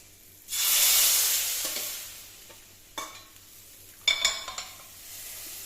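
A mixture for raw mango rasakootu hits a hot pan with a loud sizzling burst that slowly fades, followed by scraping stirs and clinks of a utensil.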